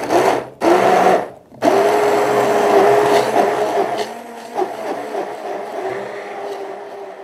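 A loud blender whirs and grinds a small batch of sauce steadily, cutting out twice briefly near the start before running on at a slightly lower, uneven pitch.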